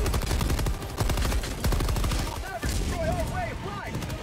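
A Stalwart machine gun in a video game fires a rapid, steady stream of loud shots for several seconds, with voices talking over the gunfire toward the end.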